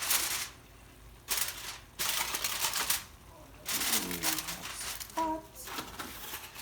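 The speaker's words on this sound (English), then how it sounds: "So I am just going to cover this with some foil paper, just a little loosely, before I put it in the oven." Aluminium foil is crinkled and pressed loosely over a stuffed chicken breast before roasting, with bursts of crackling rustle separated by short quiet gaps and a few sharper crinkles near the end.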